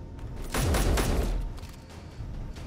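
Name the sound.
rapid fire pistol gunfire in a video game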